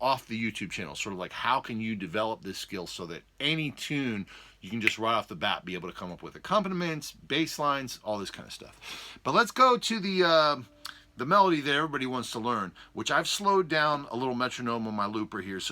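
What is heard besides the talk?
No distinct noise like a dog, phone or traffic.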